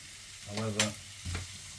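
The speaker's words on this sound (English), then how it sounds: "So I've got to fry all this off, saute as it says, basically fry it all off until it's all nice and cooked" Garlic and vegetables sauté in a pan for fish pie, sizzling steadily up close while a utensil stirs them in two short bursts of scraping and louder hissing.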